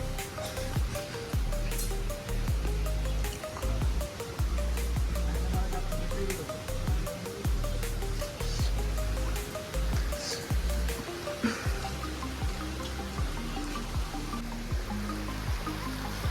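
Clear stream water flows steadily along a forest path, a continuous close rushing and splashing that stays even throughout with no talking.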